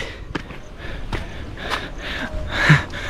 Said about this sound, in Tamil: எனக்கு மூச்சு வாங்குறது உங்களுக்கு தெரியுதா? பயங்கரமாக மூச்சு வாங்குது.